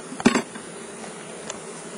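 A honeybee buzzes right next to a video camera at a beehive, giving a brief close burst of buzzing followed by a fainter second pass, with no speech.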